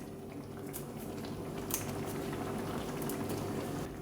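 Tomato sauce with peeled tomatoes and basil simmers in a frying pan, a soft steady bubbling and popping with occasional brighter spits, quiet and continuous.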